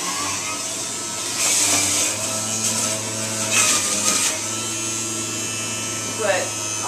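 A juicer grinds celery stalks fed in all at once, giving a steady mid-level whirring and rasping hum with a few louder grinding surges, under occasional speech.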